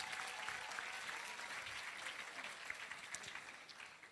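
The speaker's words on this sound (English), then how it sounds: "Another big round of applause for all our achievements" Crowd applause at the closing ceremony of the IFMSA March Meeting 2020 in Rwanda: continuous clapping from a sizeable audience, soft and somewhat distant, slowly fading toward the end.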